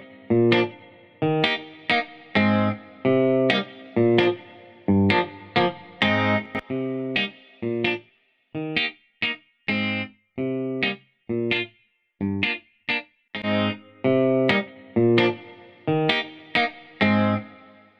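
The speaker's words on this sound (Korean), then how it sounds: "아까 클랩에도 걸었던 리버브를 기타에도 좀 걸어줬습니다." A guitar in a beat, treated with reverb, plays short, bright, choppy stabs in a steady rhythmic pattern, loud and alone, each hit trailing off in a brief wash of reverb.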